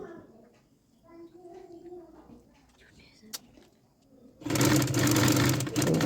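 A sewing machine stitches fabric for a homemade hair band, starting abruptly after several seconds of quiet talk and then running loud and steady to the end.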